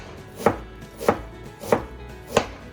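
A knife chops a small, strong onion on a board in four crisp, evenly spaced strokes, close and clear against a quiet background.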